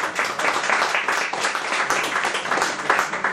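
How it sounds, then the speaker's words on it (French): Steady applause from an audience, dense clapping that holds at an even level throughout with no break. "Je vous remercie d'applaudir Osée."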